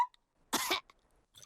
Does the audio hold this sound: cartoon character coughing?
yes